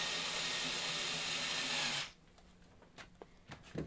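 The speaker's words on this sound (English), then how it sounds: "And I simply now just put the bucket on the wall using a couple of screws." Screws driven to mount a bucket on a wall with a power drill or screwdriver, a loud steady whirring burst for about two seconds that stops abruptly, followed by faint handling clicks and taps.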